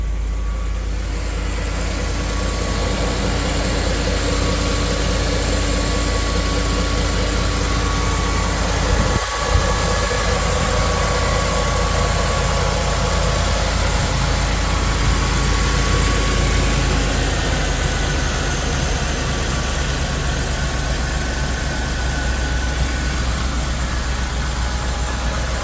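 A restored car, Bill from Extinct Motorsports, idles after a cold start with a continuous deep rumble and vibration close by, holding steady for a long stretch apart from one brief knock.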